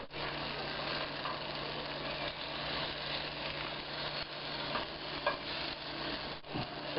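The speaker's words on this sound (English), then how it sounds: "The burger sizzling away." Black bean veggie burger sizzling in a frying pan, a continuous close crackling hiss with a low steady hum underneath and a brief clatter near the end.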